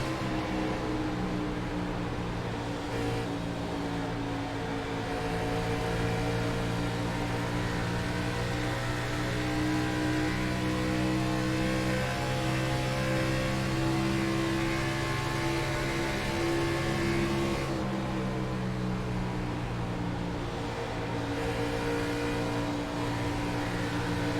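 A race car engine drones steadily as the driver feathers the throttle, a sustained, slightly wavering mechanical hum with subtle swells in pitch, heard close and unbroken throughout.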